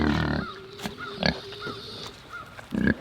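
Several short, low grunting bursts from pigs close by, spaced irregularly with quieter stretches between them.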